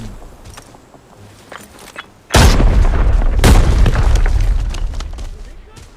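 A sudden heavy grenade boom in the video game Arena Breakout erupts after quiet rustling, with a second blast soon after and a long rumbling roar trailing on, loud and close.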